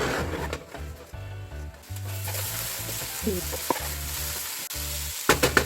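Garlic and vegetables sizzle in a pan crowded with food and liquid. A steady frying hiss runs under close stirring and scraping, with a low rhythmic hum beneath and a few sharp clatters near the end.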